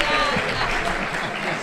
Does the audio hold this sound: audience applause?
yes